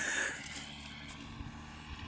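A paramotor engine drones steadily throughout as a powered paraglider flies, a continuous buzzing hum with a steady low-pitched tone and no voices over it.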